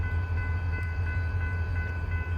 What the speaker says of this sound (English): they're backing in to pick up these freight cars